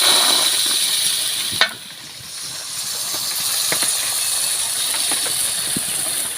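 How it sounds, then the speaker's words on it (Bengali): A ladle of gola ruti batter with egg goes into a hot kadai with very little oil, producing a loud, steady hiss after a brief sharp clatter, with a few faint knocks. "এবার এক ডাবু নিয়ে কড়ার মধ্যে দিয়ে দেব।"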